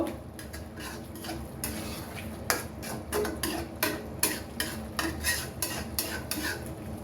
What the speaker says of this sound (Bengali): একটু নেড়ে মিক্স করে নিলাম।